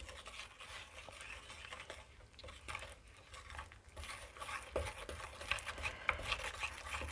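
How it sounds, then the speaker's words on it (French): A spoon stirs cocoa and vanilla protein drink mix in bowls, producing quiet, irregular scraping and clinking against the sides, soft and close with no speech. "Donc je mélange dans chacun des bols."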